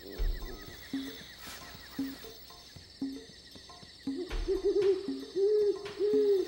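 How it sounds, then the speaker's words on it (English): A great horned owl hoots in a steady series of low, soft calls, repeated about once a second, then longer deeper hoots near the end. "It's a great horned owl."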